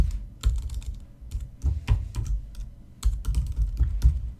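Rapid, irregular clatter of computer keyboard typing in bursts with short pauses, close and fairly loud, during a Swift iOS coding session; no voices.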